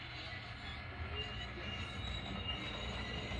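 A train's steel wheels squeal on the rails as a locomotive rolls over to couple onto the rest of the train while switching cars, with a steady, loud, high-pitched screech over a rumbling rail background throughout.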